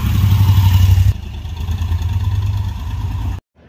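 An old motorbike engine idles with a low, even chugging throb in an Italian hill-town square, its tone dropping slightly as the rhythm shifts before it cuts off abruptly near the end.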